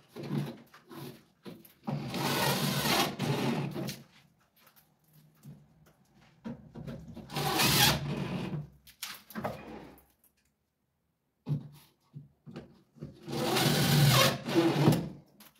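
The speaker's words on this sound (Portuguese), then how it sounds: "Não se preocupe na hora de parafusar aqui, se o parafuso ficar um pouquinho com a cabeça para fora" A power screwdriver drives screws into a plasterboard drywall ceiling with an inverted cove, in three separate bursts of whirring near the mic, with quiet pauses between them.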